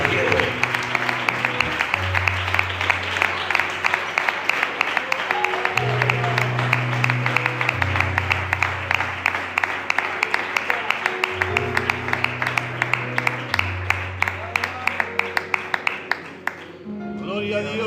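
Church congregation applauding, dense continuous clapping with sharp individual claps standing out, under sustained keyboard or organ chords and some voices, fading toward the end.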